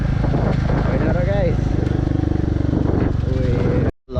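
A Royal Enfield Bullet motorcycle is ridden on a road, its engine thumping in a loud, steady, close-up rhythm. Voices talk over it, and the sound cuts off abruptly near the end.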